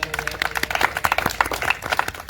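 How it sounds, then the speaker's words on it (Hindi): Applause for the girls' third-place winner at a charity games prize event covering javelin, shot put and discus: a steady patter of many hands clapping together, moderately loud and continuous throughout, with no lead voice over it. "जोरदार तालियां हो जाए"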